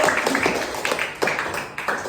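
An indoor audience claps at a training session, producing uneven, scattered hand claps with a few stronger bursts that are neither tight nor rhythmic.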